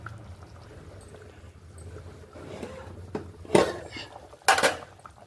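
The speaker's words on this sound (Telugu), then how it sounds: "పొడి వేసేసి చేత్తో గుడ్డతో పట్టుకొని అలా తిప్పుకోవాలి" A pan of fish curry held with a cloth and swirled by hand: low scraping and faint sloshing build to two loud, brief sloshing swishes close by, with a little background speech.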